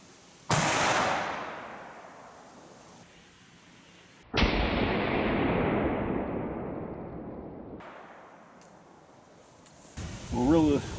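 Two heavy booms from a slug gun firing Remington Premier AccuTip 3-inch slugs ring out outdoors, each followed by a long fading rumble, with a third lighter bang late in the clip.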